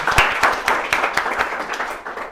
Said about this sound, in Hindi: बजाओ एक बार ताली